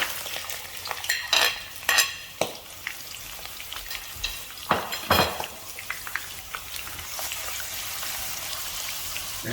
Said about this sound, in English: Now we will add 2 medium-sized finely chopped onions.